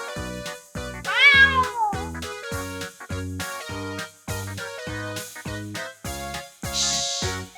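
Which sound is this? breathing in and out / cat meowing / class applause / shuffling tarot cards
cat meowing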